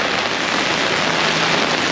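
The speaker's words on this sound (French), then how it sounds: "La première journée de pluie, depuis le 4 octobre, et puis on est le 28 octobre." Steady rain falls hard and continuously on a day in northern Vietnam on the road to Dong Van, a dense, close hiss with no pauses and no voices.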